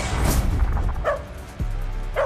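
Short dog barks and yips from an animated Cowboy Bebop scene, two or three clipped calls spaced about a second apart over a loud, dense soundtrack rumble, with no talking.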